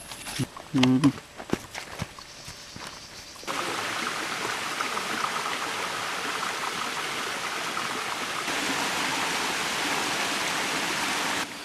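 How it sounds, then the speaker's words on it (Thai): After a few knocks and rustles, a steady splashing rush of the small Pha Phueng waterfall, running with little water, fills the rest, continuous and moderately close. "น้ำตกผาพึ่ง แม้น้ำจะไม่ค่อยเยอะ"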